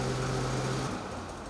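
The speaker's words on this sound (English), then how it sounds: "start the engine and apply a small amount of throttle until the track turns slowly at least 5 complete" Polaris 850 Indy VR1 snowmobile engine running at light throttle, a steady close-up hum with a sustained low tone that drops away after about a second, leaving a softer, rougher idle.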